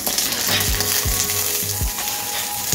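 Egg-and-sugar-soaked French toast bread slices frying in a pan, a loud, dense, continuous sizzle up close, with a few soft low knocks as the slices shift.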